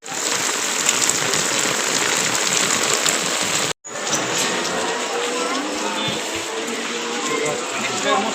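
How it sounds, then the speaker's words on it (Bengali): Heavy rain pours outside in a dense, steady roar for the whole stretch, broken only by one brief cut partway through. "প্রচুর বৃষ্টি বাইরে এখন।"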